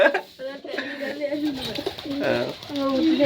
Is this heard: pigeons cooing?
yes